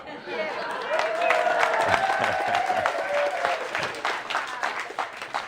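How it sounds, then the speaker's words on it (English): An audience claps steadily for several seconds, a dense patter of hands with faint voices mixed in. "Where's the big applause there?"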